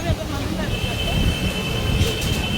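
A Mumbai local train at Byculla station gives a continuous loud rumble of wheels and carriages, with a steady high metallic squeal from early on and faint voices underneath.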